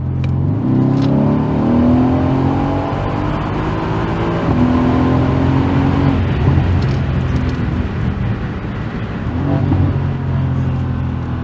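A Mercedes C63 AMG W205 accelerates at full throttle, its loud engine note climbing through the revs with several gear shifts that briefly drop the pitch before it rises again, heard steadily and close.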